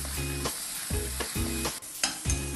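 Ginger garlic paste sizzles and fries in a pan for a Malvani-style prawn curry, with rhythmic bursts of stirring and scraping about every half second, close and moderately loud, no talking.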